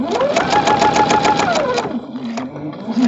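Sewing machine stitching a quilt block, a loud, close, rapid rhythmic needle clatter with a rising then falling motor hum that stops after about two seconds, followed by quieter handling sounds.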